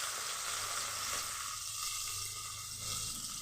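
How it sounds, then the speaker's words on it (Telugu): Dried prawns fry in a small amount of oil until golden, giving a steady, close, loud sizzling hiss that continues without break throughout. "ఈ మాత్రం నూనె పోసి ఎండ్రేలు దోరగా వేయించుకోవాలండి."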